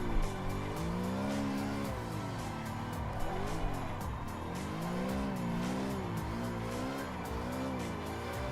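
Tyres squealing at a high slip angle in a racing video game, a continuous warbling screech rising and falling over a droning engine, loud and close without a break.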